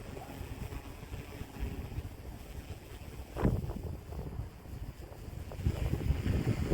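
Gusts of wind buffet the microphone outdoors while a VCOPTR Falcon Omni drone flies, a constant rough rumbling roar that swells louder in bursts, with no one speaking.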